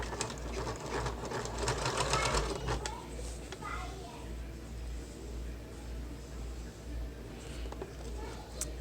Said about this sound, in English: And start sewing up at the top.